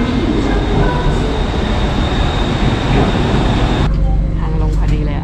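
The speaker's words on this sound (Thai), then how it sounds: "รถไฟฟ้ามาแล้ว" A Bangkok BTS Skytrain rumbles loudly into a station, a heavy roar of wheels and motors that drops off suddenly as it slows to a stop.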